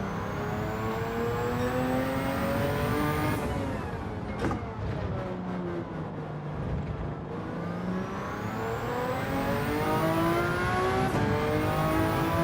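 A 7-liter V12 race car engine in a racing video game revs hard and continuously, its pitch sweeping up and down through the gears over a steady loud drone, with no talk.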